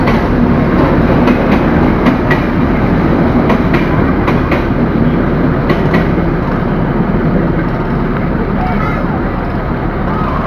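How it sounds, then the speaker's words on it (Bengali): The Nil Sagar Express, running from Dhaka to Chilahati, rumbles past close by, loud and continuous, with rhythmic clicking of wheels over rail joints and people talking nearby. "এক্ষুনি এই ট্রেনটা ঢাকা থেকে আসলো, সরাসরি চলে যাবে চিলাহাটি"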